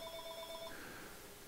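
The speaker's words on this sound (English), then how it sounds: "Yeah, there's the phone. Might have to go get the phone." A telephone rings in a workshop during electronics repair and soldering, a short repeated electronic bell pattern that stops partway, leaving steady background hum.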